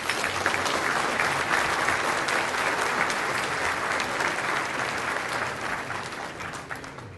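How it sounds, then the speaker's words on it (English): Audience applause at a Chamber of Commerce luncheon for a city's State of the City address, a steady dense wash of many hands clapping, loud and sustained throughout, easing slightly toward the end, with no talking. "Please give a round of applause to Mr."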